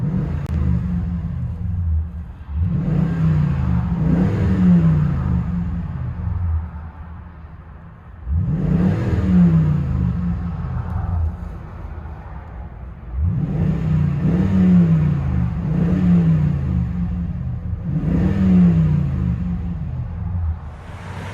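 A 2010 Toyota Tundra 5.7-liter V8 with a Flowmaster Super 50 exhaust, heard from inside the cab: a steady deep, clean drone, with three rising revs at about 2.5, 8 and 13 seconds that swell and settle back.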